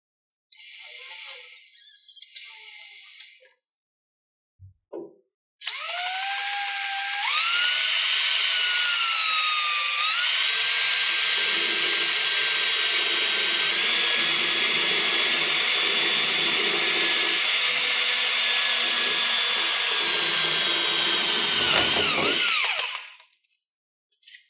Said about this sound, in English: You can use a 90-degree drill and drill the hole.